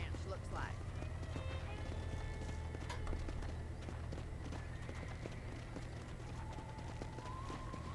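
Horse hooves clip-clopping on a ranch in the video game Red Dead Redemption, a steady walking gait under a constant low engine-like hum and faint game ambience, with other incidental sounds drifting in.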